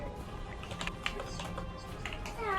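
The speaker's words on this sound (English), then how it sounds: "Ah, you're typing." Light, irregular clicks of typing on a computer keyboard, quiet and fairly close, with faint room tone and soft background murmur.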